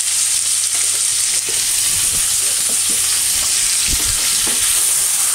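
Pancetta sizzles steadily in a cast iron pan, a loud close hiss of frying fat with a few soft scraping stirs as the pieces are moved around.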